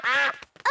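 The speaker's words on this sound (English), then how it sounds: "Oh, it's the ducks." Cartoon ducks give a pair of loud, nasal quacks close by, separated by a short gap with a few faint clicks.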